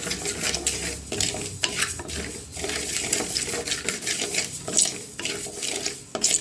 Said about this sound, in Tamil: அரிசி நல்லா வறுபட்டுருக்கு. இன்னும் லேசாக வறுத்து எடுத்துக்கணும்.